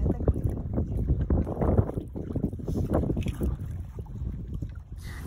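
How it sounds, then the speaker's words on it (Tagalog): A small boat carries riders across the water near Lake Holon, its rocking and splashing churning close under gusts of wind buffeting the microphone, with no one talking. "sumakay lang kami dito sa bangka"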